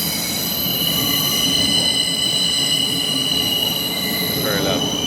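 A London Elizabeth line train runs at speed, a loud, close roar of wheels on rails with high metallic squealing tones. The noise stays steady throughout, with a voice faintly present under it.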